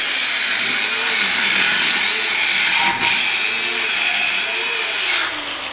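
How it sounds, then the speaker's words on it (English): Power saw cutting stainless steel held at low speed, a loud steady grinding whine that carries on without a break, with one short dip partway through and a slight drop in level near the end. "I'm just going really low speed because when you do stainless steel at high speed, it burns the blade."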